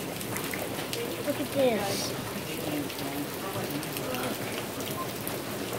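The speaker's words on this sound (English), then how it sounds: "It's raining so hard right now." Heavy rain pours steadily onto a surface during a California storm, a dense continuous hiss close by, with a brief spoken remark over it.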